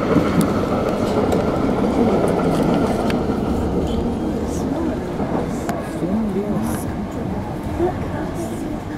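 Interior of a passenger train running between London Victoria and Penge East, a steady loud rumble and rattle of wheels on track throughout, with faint occasional clicks and an announcement voice over it.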